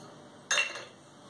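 A spoon briefly clinks against a metal pot or bowl while a khandvi filling is stirred together with lemon juice, sugar and salt, a short bright scrape and clink, close and alone.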